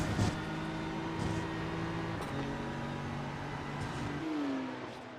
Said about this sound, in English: BMW puts the power down pretty well